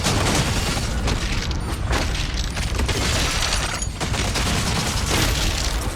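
The Ravager weapon in Doom: The Dark Ages fires in a sustained, loud stream of dense, crackling blasts and booms that barely let up for the full stretch, with a couple of brief dips in intensity.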